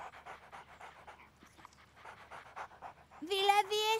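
Two cartoon dogs panting in quick rhythmic breaths, faint under a person's talking, followed by a louder high whine near the end.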